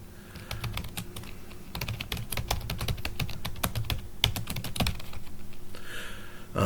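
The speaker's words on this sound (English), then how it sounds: "I say it here and then I type it here" Steady clattering keystrokes on a computer keyboard during a math lecture, fairly quiet and close, with rapid irregular bursts of typing and no speech.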